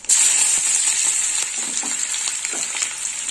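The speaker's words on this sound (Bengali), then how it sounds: "এবার দিয়ে দেবো কুচনো পেঁয়াজ।" Chopped onion is tipped into hot oil already tempered with dried red chilies, cardamom, cloves and cinnamon, giving a loud, close, hissing sizzle that sets in at once and holds steady, with faint stirring scrapes throughout.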